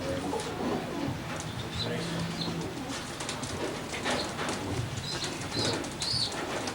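Young pigeons raised in a rabbit cage flap their wings in repeated bursts and coo softly nearby, with scattered chirps and some background voices mixed in.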